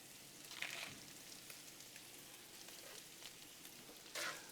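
Onions and bacon fry on a griddle with a soft, steady sizzle and crackle that runs throughout at low volume, with a few brief louder pops.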